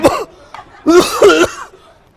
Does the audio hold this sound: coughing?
yes